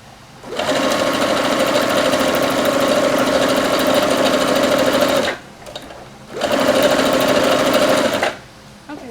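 A Singer Legacy SE-300 sewing machine runs steadily while stitching straight seams on a small pouch, with a long continuous whir, a brief pause, and then a second shorter burst of stitching close by.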